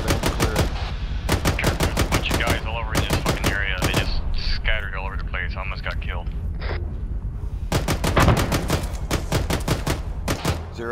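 Rapid gunfire rattles through a fight on Takistan in Arma, with loud, evenly spaced bursts of shots coming in long runs and brief pauses, while voices talk over the shooting.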